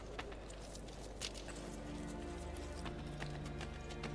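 Horses walk near stables in the video game Assassin's Creed Brotherhood, with rhythmic hoof clip-clops over a steady low background hum, fairly quiet throughout.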